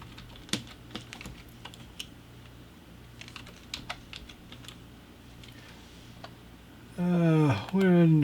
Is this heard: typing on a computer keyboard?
yes